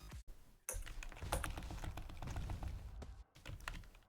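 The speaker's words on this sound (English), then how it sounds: "sorry for the not pleasant clicking sound in the background, but yeah, you have to spam quite much" A computer keyboard is spammed with rapid, dense clicking during quick-time inputs in a Saints Row: The Third co-op speedrun, a fast irregular clatter with a couple of brief pauses, fairly faint overall.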